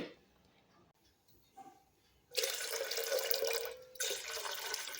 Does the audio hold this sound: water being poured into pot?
yes